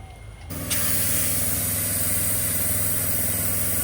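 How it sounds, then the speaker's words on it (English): An air compressor hooked up to a Tesla fitted with a rotary engine starts up after a brief quiet moment, then runs as a loud, steady mechanical drone with a constant hiss over it. "And I'll show you how we put a compressor up to it."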